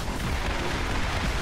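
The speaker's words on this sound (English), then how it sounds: "Explosions after explosions." Explosions in the video game Borderlands form a dense, continuous rumbling barrage of booms, loud and close, with no talking.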